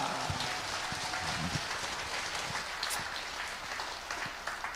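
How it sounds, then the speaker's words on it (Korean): A crowd at a rally gathering claps in a steady, dense wash of applause that holds at an even level throughout, with a few sharper individual claps standing out near the front. "박수하겠습니다."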